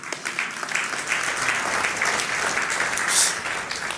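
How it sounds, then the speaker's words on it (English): Audience applause at a live launch event for the MTG-S1 and Copernicus Sentinel-4 satellites, a steady, dense wash of many hands clapping that holds evenly for about four seconds and swells slightly near the end. "Let's give them a warm round of applause."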